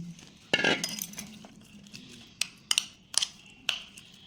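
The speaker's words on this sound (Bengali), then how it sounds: "সেই ক্রিমটা এখন আমি এক চামচ দুধ দিয়ে গুলে নিচ্ছি" A spoon clinks against a glass or bowl while cream is mixed with a spoonful of milk for a biscuit chocolate cake, giving several sharp, quiet taps spaced irregularly over a soft background.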